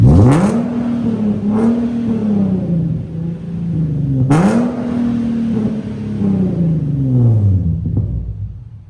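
An Infiniti Q50 with a full bolt-on setup running on E85 idles loudly up close, its engine note climbing sharply in two distinct revs before settling back to a steady, droning rumble.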